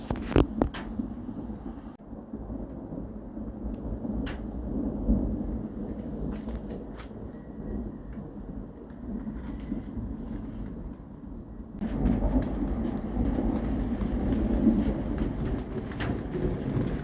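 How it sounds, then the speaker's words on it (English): Storm thunder rumbles over steady rain on a street during a budget rebuild of a Vauxhall Viva HC; low rolling booms sit under continuous patter, and the rain grows heavier and louder partway through. "Yep, thunder. Now here comes the rain."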